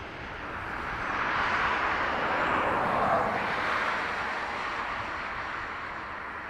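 A Ryanair airliner, registration 9H-VUS, arriving from Leeds Bradford on the north runway at Dublin Airport, heard as a broad, steady roar that swells slightly mid-pass and stays fairly loud throughout, with no talk.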